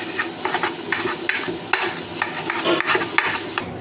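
Eggs frying and being stirred in a pan for chowmein, with steady sizzling under repeated scraping and clinking strokes of a utensil, close and fairly loud throughout.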